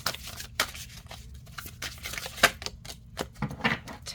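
Tarot cards being shuffled by hand, a run of crisp riffling and flicking bursts with soft papery slaps, close and fairly quiet with no talking.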